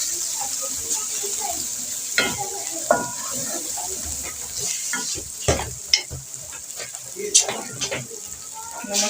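Dry coriander and garam masala fry in a pan, a steady high sizzle broken by irregular spoon scrapes and clanks against the metal, close by, with faint background voices and a brief trickle of water.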